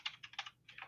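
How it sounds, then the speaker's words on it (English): A computer keyboard is typed on in quick, uneven bursts of crisp key clicks, close and fairly faint, with a short pause in the middle. "because when he starts typing"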